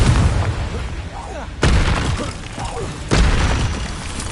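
Blasts of the Confringo fire spell in Hogwarts Legacy, two heavy booming explosions a second and a half apart over a rumbling backdrop of in-game combat, with a voice speaking amid the noise.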